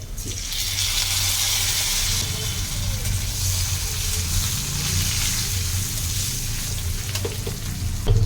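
Drumstick flowers and onion frying in a pan with salt, a steady loud sizzle throughout with occasional stirring scrapes close by.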